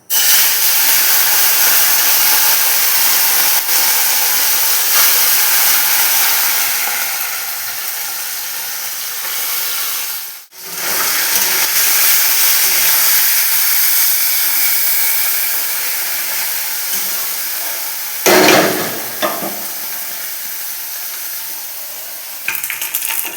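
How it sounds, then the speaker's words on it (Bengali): Mourala fish fry in hot, smoking oil in a wok, a loud, continuous hissing sizzle that briefly dips once midway, with occasional stirring scrapes later on. "আমার মাছটা লাল করে ভাজা হয়ে গিয়েছে"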